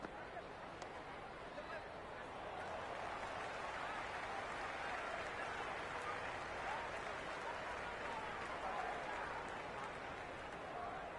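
A raucous crowd at a T20 cricket exhibition match roars and claps steadily throughout, a dense, continuous wash of cheering and applause with no break.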